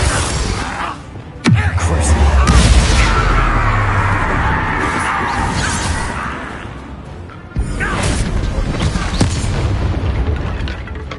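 Bombarda explosion spell in Hogwarts Legacy, a sudden loud blast followed by a long rumbling roar, then a second sharp impact and rumble, with game voice lines around it.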